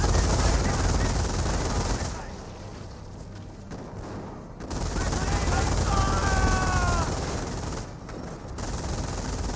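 Machine gun bursts rattle in a Company of Heroes battle as several MG42s pour fire onto a rifle squad, loud rapid fusillades that briefly drop away and then resume, with distant battle noise and a tonal whine under them.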